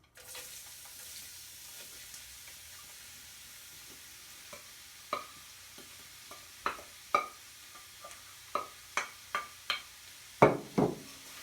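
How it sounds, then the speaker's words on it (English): Vegetables stir-frying in hot oil in an electric wok: a soft steady sizzle with a growing series of sharp knocks and scrapes from stirring, becoming more frequent and louder toward the end, with no talking. "we're going to add our whole bowl of vegetables"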